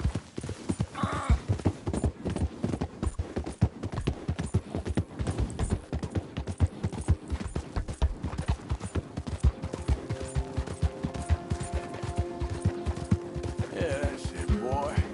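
A horse galloping in the video game Red Dead Redemption 2, a rapid, steady clip-clop of hooves close up and loud throughout, with a brief neigh and a few harsh bursts over the rhythm.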